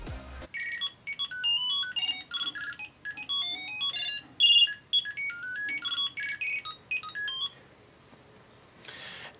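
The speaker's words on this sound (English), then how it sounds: "moving on to ringtone number 3" A Bluetooth tracker ringtone, a thin electronic melody of quick high beeps and chirps, plays for about seven seconds, fairly faint, then stops.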